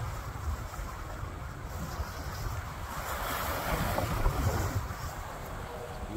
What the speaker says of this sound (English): Checking out the waves breaking on the point.